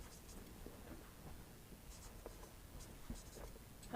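Pen or marker writing out a Class 10 coordinate-geometry distance problem on a board or paper, steady faint scratching strokes with small taps, quiet and close, no voice.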